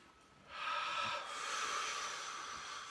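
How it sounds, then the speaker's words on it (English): A slow, deep inhaled breath, soft and close, rising as a breathy hiss and held for about two seconds in a quiet room. "Let's go ahead and take a deep breath together."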